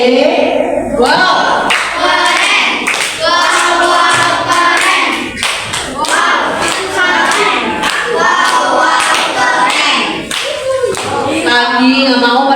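A group of people performs a rhythmic clapping chant together at a school program session, claps interleaved with loud sung and shouted voices, close and energetic throughout.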